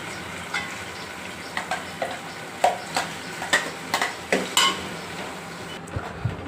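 A spoon stirs freshly ground masala into a frying pan, knocking and clicking against the metal in irregular close taps over a steady low sizzle.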